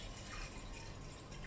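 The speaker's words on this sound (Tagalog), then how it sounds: "nagyan natin na konting tubig." A little water poured into a dumpling steamer for prawn hargow, a brief steady splashing rush of liquid heard close and alone.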